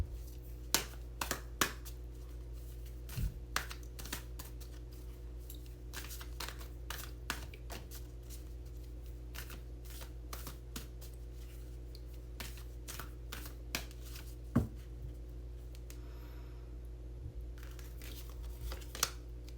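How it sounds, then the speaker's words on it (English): Oracle cards shuffled by hand give a steady run of quick, light papery clicks and riffles for the whole stretch, fairly close and soft, with no talking. "I'm going to pull a couple of oracle cards."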